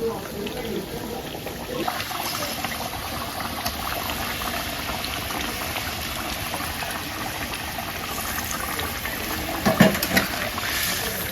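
Potato fish curry boiling in a pot as fish is added, a steady bubbling simmer throughout, with a brief louder splash or clatter near the end.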